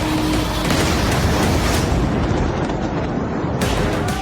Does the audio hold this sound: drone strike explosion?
yes